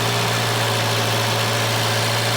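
A Volvo 240 idles steadily with an oil leak at the top cam gear, giving a loud, close, continuous hum with a rough mechanical whir over it.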